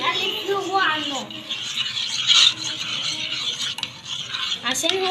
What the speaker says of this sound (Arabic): بنقلب فيه وهو على النار